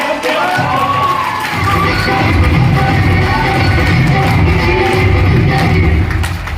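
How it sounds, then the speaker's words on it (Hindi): Cheering and yelling crowd at a celebration function in Khandsa, Gurgaon, loud and sustained with shouts and scattered thumps, voices roaring together for the chief guest. "मैं जबरदस्त तालियां चाहता हूं"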